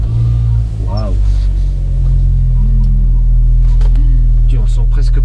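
A smooth, quiet car engine hums low and steady from inside a Volkswagen Caddy while driving, under voices speaking and exclaiming.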